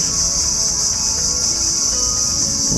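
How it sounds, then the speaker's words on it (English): A loud, continuous high-pitched insect drone of mangrove cicadas, steady and piercing throughout with no pauses. "What you can hear right now is the sound of a cicada, a mangrove cicada."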